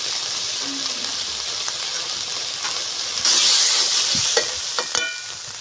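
Whole black and green cardamom, cinnamon, red chilli paste, turmeric and salt fry in mustard oil with a splash of water for a village-style shol fish curry. A steady close hiss of sizzling carries occasional stirring scrapes and swells louder midway. No one speaks.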